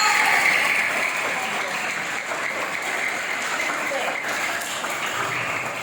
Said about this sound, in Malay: Tepuk sikit lagi